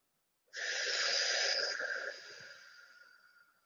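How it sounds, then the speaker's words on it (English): A long, slow exhale during a guided breathing exercise, a close, airy rush of breath that starts abruptly and tapers off gradually over about three seconds. "And breathe out."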